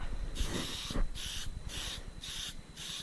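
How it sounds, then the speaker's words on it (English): An aerosol can of satin acrylic clear coat sprays in five short, even bursts over rusted metal, each a sharp hiss, close up, with faint clicks and rattles between them. "Just going to give it a light spray to hold our rusting process there."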